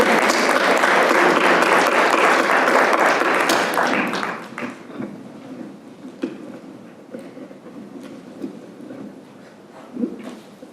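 Audience applause for the moderator and panelists at a policy forum: dense, loud clapping for about four seconds, then thinning to scattered claps and faint murmurs.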